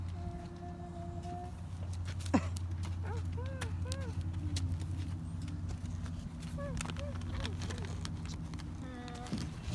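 A horse stands close by amid a steady low hum, with occasional short snorts and sounds of movement while people talk softly.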